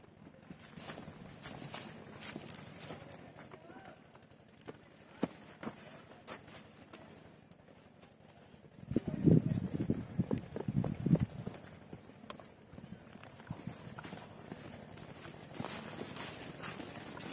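Horse hooves clip-clop on the ground, soft and steady at first, then a louder, busier burst of hoofbeats for a few seconds before it settles back to a faint patter.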